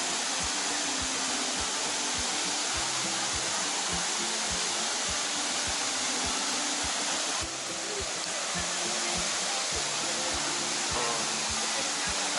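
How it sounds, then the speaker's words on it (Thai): Haew Suwat waterfall at Khao Yai roars in a dense, unbroken rush of falling water, loud and close, with faint voices buried underneath. "นี่คือน้ำตกเหวสุวัตนะครับ"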